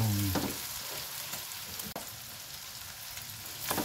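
Squash sizzles in a pan with tomato and pork, a steady dense crackle with a scrape of stirring near the middle, close and moderately quiet with no voices.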